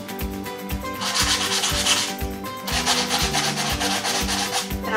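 Sandpaper scuffs the finish on a wooden bench in quick back-and-forth strokes, a close, steady rasping that pauses briefly midway and then resumes.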